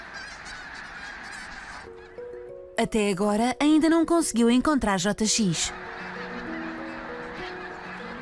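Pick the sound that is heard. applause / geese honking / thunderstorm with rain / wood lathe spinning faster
geese honking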